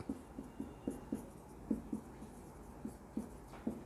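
Handwriting notes with a pen on paper in a quiet room, soft evenly spaced scratching strokes repeating in a steady rhythm, faint and alone.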